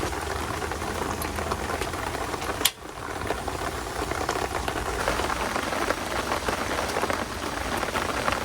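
Rain drums steadily on a minivan's roof during a rainstorm, a dense, continuous patter with one sharp knock near the start.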